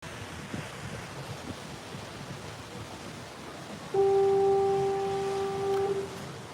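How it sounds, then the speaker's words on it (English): A lighthouse foghorn sounds from a distance over wind and ocean surf heard from a cruise ship sailing out of San Pedro, a steady tonal blast rising partway through and holding for about two seconds. "It's also a foghorn, although it's not really foggy today."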